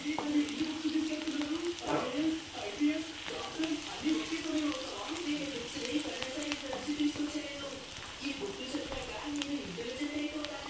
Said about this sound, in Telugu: ఆనియన్ కొంచెం ఒక 2 minutes ఫ్రై అయితే చాలు